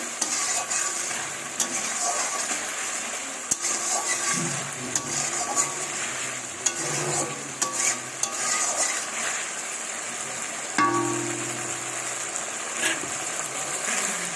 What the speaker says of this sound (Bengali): ভালোভাবে আলুগুলো দিয়ে এবার কষিয়ে নেব